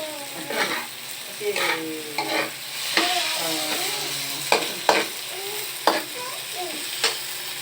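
Garlic and onion sauté together in a pan for sarsyado with egg: a moderate sizzle broken by repeated sharp scrapes and stirring strokes at irregular intervals, close and without talk.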